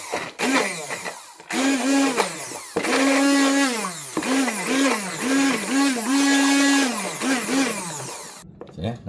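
A kitchen blender whirs loudly through garlic and pineapple juice in repeated bursts, its motor pitch rising and dipping as it pulses, then stopping abruptly near the end.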